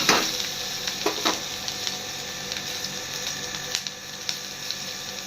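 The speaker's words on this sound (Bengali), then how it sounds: "আদা কাঁচা লঙ্কা ফোড়ন দিচ্ছি।" Ginger and green chili tempering crackling in hot oil after fried eggplant, a steady faint sizzle broken by several sharp spatters and clicks from stirring, heard alone without talk.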